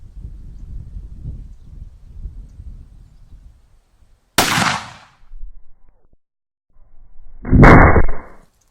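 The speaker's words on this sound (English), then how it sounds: "That muzzle blast is just epic" A rifle fires a sabot round in a deafening muzzle blast, a sharp broadband crack with a decaying tail, followed by a second loud burst a few seconds later, after a stretch of low rumbling noise.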